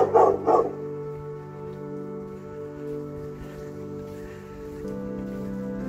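A small dog in a quiet riverside village street gives two quick, sharp barks right at the start, then fades into a faint, low background hum with no further barking.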